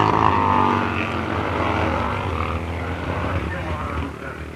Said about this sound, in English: These tiny machines reach amazing speeds, and the drivers show exceptional skill as they throw them around the track